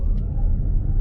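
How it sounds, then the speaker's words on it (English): Brief low rumble of a Toyota RAV4 Prime pulling away hard at full throttle in eco mode, a close, steady roar of road and drivetrain noise with no talking. "I'm in eco mode. I'm gonna floor it."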